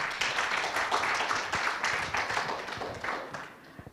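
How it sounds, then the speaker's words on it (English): Scattered clapping from a modest audience at the close of a panel at a scientific conference, individual claps audible in an uneven rhythm that gradually thins and fades. "Please, let's give them a round of applause."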